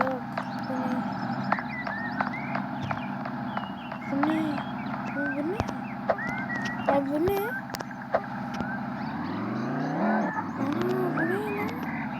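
A car drives and skids in a GTA-like video game, engine droning with repeated tire squeals and skids over about twelve seconds, mixed with game effects and a voice talking over it.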